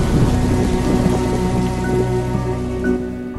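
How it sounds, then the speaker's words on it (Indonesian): Steady, continuous rainfall on early Earth, a dense even patter that fills the whole stretch at a consistent level with no voices. "hujan pertama kali turun di bumi"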